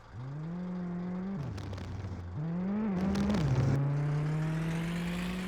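A car engine in the video game My Summer Car hums and shifts pitch as the vehicle approaches along a rural road, rising, dropping and settling into a steady, growing drone.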